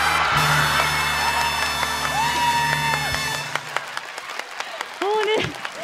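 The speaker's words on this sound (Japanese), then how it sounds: "もうねこれはね歓声がね湧き上がりますよね。" Audience at a Digimon Adventure 15th anniversary event in Japan cheering and applauding loudly over a musical fanfare, a dense roar of clapping and shouts that thins to scattered claps and excited voices.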